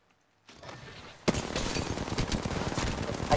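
Gunfire in Apex Legends on an Arena server, a burst of rapid automatic shots that erupts suddenly after a quieter lead-in and keeps rattling loudly to the end.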